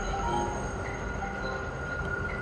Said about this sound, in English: Is this Daddy's train?